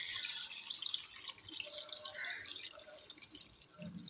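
Water poured into a pot of fried rice, puffed rice, potato and cauliflower for a Bengali muri ghonto, a soft continuous splashing and trickling that runs steadily throughout with a brief lower gurgle near the end.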